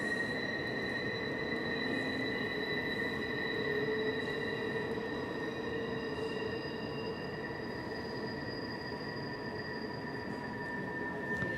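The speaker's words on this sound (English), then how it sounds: "Waiting for the train to pass." A train rolls past a city council meeting in Mount Shasta, a steady loud rumble with sustained high tonal squeal or whistle lines running throughout, no speech over it.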